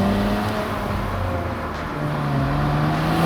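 The engine of a 2023 Nissan Z drones steadily with subdued, fairly quiet revving and a slow rise and fall in pitch, with no voices.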